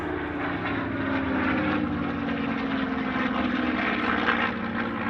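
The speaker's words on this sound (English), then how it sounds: "The Mark 23 was the best and most numerous version of the CA-18." CA-18 Mustang Mark 23 fighter with a Rolls-Royce Merlin engine at the Australian International Airshow, a steady throaty piston-propeller drone passing fairly close, no voices.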